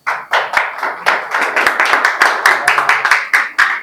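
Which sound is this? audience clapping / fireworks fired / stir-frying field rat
audience clapping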